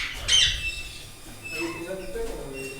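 A lacewing ringneck parrot lets out a sharp, loud squawk near the start, followed by quieter chattering calls and faint voices in the background.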